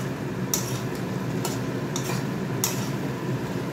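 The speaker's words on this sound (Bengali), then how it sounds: "এটা ভালো করে কষানো হয়ে যাক।" Spices and food stirred and sautéed in a pan for a kosha-style dish, with a steady sizzle of frying under a few sharp scrapes and clinks of the spoon against the pan, close and clear.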